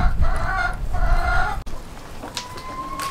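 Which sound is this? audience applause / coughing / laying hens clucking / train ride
laying hens clucking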